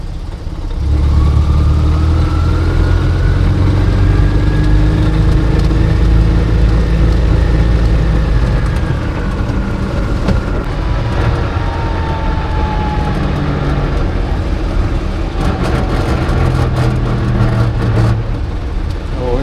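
Invacar three-wheeler engine droning steadily while driving on the road, a close, loud buzzing hum with shifting pitch as it accelerates and slows, plus rattles and wind noise throughout.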